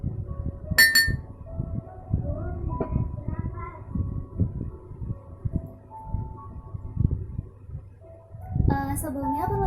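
A spoon clinks against a glass container while 70% alcohol is added in a strawberry DNA isolation lab practical, giving a few sharp, bright ticks amid quiet handling noise and soft background talk.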